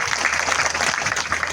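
An audience claps at a gathering, producing a dense, continuous burst of many hands applauding close by for the whole short stretch.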